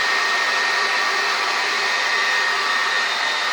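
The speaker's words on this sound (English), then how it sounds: "So what you do with this is you take the blow dryer" A blow dryer runs close and loud while drying curly hair, a steady unbroken whooshing motor roar with no voices.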